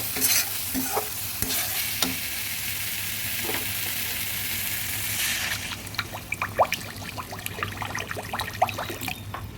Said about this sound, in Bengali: মশলাটা ভালোভাবে ভেজে নিয়েছি এবং চারদিকে তেলও বেরিয়েছে এবার দিয়ে দেবো জল